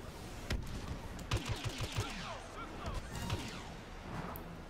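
Quiet bursts of gunfire crackle in Star Wars Battlefront, a quick series of sharp shots then scattered reports over ambient battle noise, faint and mid-distance.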